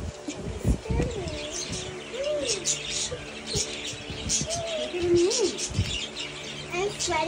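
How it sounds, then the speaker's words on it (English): Parakeets at a zoo give repeated short chirps and upward whistles in clusters over steady outdoor ambience, fairly close and moderately loud. "Bird."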